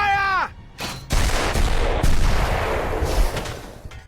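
Heavy German artillery bombardment on a WWII Rzhev front position, with a loud sustained barrage of booming blasts and rumbling impacts following a brief tonal sound, dense and continuous for several seconds.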